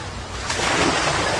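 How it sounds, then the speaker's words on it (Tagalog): Heavy sea waves slam against seaside shanty houses on Isla Puting Bato in Tondo, Manila, during rain, a broad continuous roar of surf and wind swelling louder midway. "Malakas ang hampas ng alon"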